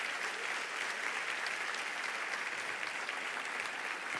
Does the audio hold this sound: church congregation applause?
yes